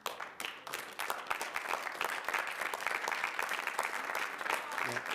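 Members of the public clap at a Kern County Board of Supervisors meeting after a speaker's comment, a sustained, moderately distant burst of many hands that starts abruptly and continues evenly.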